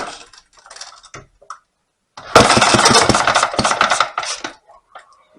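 An all-original 1935 Briggs and Stratton model WM engine, partly choked with its idle raised, sputters into a loud, rapid run for about two seconds, then falls back to scattered softer knocks and handling noises.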